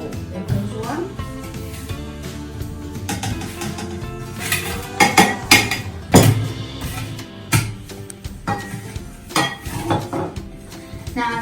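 Utensils clink and scrape against a mixing bowl while two eggs go in for banana bread, with scattered sharp taps and knocks of varying loudness over low background sound.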